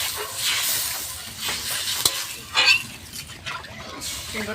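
Water poured into a hot pan of mankochu taro curry that has just been fried down, giving a broad steady hiss and sizzle with a few brief clinks and bursts, close by.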